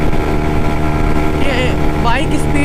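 A Yamaha MT-15 motorcycle engine hums steadily while riding in strong wind, a loud continuous drone with wind buffeting, and someone talks over it.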